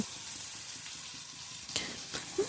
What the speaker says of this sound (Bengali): দেখুন আমার হালকা ভাজা হয়ে গেছে এবার আমি এটাকে তুলে নেব